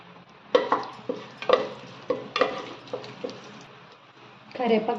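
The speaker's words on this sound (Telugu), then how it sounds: "ఆయిల్ వేసి ఆయిల్ వేడెక్కాక జీలకర్ర, కరివేపాకు," Cumin and curry leaves fried in hot oil in a pressure cooker, several sharp scraping stirs and clatters over a faint sizzle, close by, with a voice talking in between.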